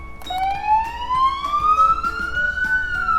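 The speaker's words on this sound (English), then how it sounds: "this button right here is gonna play the siren." A police car siren sounds from a parked patrol vehicle, one loud, steady rising wail that climbs slowly and holds, close and clear over faint background noise.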